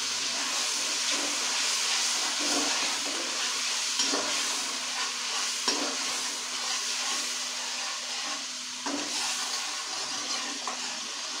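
A yogurt mixture with lemon juice fries and is stirred in a pan for Hyderabadi kabuli chana pulao, making a steady loud hiss and sizzle with occasional faint scrapes of stirring.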